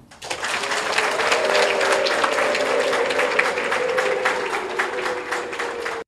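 Sustained applause for a speaker at a political event, many hands clapping in a dense steady patter for several seconds, with a faint drawn-out cheer or ululation running underneath.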